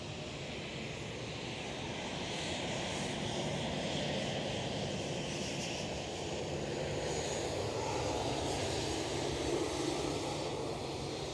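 KLM Boeing 737 airliner at Schiphol airport, a steady broadband engine roar held at a constant level throughout, fairly close and continuous with no talk.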